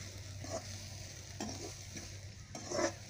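Chopped shallots sauté in hot oil for a beef roast, a steady close sizzle broken by a few spatula stirs and scrapes against the pan.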